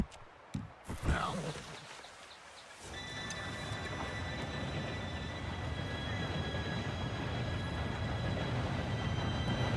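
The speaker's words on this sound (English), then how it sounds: "Train should be here any minute." A train arriving in the video game Red Dead Redemption 2 rumbles steadily closer, a low rolling roar that swells and holds after a few brief knocks and a faint voice at the start.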